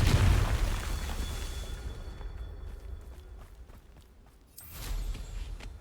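A deep blast from the Confringo blasting spell in the Hogwarts Legacy video game opens loud and rumbles away, and a second, sharper burst erupts near the end.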